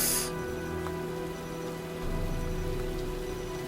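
Steady rain from a storm in the Heavy Rain video game, a dense constant hiss with faint low hum beneath it, heard alone at moderate level with no talking.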